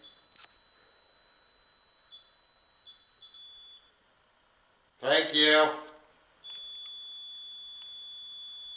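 A smoke alarm chirps in short, steady high-pitched tones, cutting out briefly while a person speaks, then resuming as a continuous piercing beep in a quiet indoor space.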